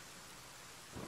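Steady rain hiss from a storm in the Pillars of the Earth video game, fairly faint and even, with a low rumble of thunder starting to swell at the very end.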